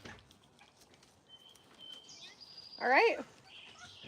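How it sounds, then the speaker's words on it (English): A small rescued bird gives thin high chirps and a brief louder burst of twittering, close by, while a person speaks briefly nearby. "doesn't want to hear the little chirping"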